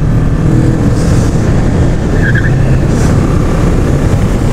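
A Bristol ADS 160 motorcycle brakes with ABS engaged, a loud continuous road and tire rush with brief high squeals over the steady rumble.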